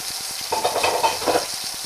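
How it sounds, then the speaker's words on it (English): Ground beef hits a hot pan for spaghetti sauce and fries with a loud, close, crackling sizzle that swells briefly, then settles into a steady frying hiss. "let's put the ground beef in. And sizzle!"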